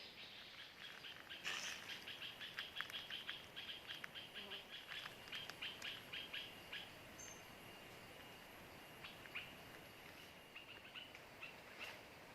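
Forest bird calling repeatedly in rapid chirping series, faint and somewhat distant over a quiet background hum, with pauses between bursts.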